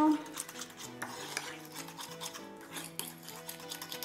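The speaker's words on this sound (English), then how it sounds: "Mix it up. Mix this one as well." Shortbread ingredients being stirred in a bowl, with repeated scraping and clinking of a utensil against the dish in a steady rhythm; background music plays throughout.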